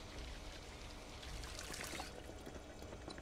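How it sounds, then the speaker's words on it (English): Water pours steadily into a bucket in the video game Project Zomboid, a continuous splashing trickle filling the whole short stretch at an even level with no voices. "Filling this bucket up full of water in case I lose my water."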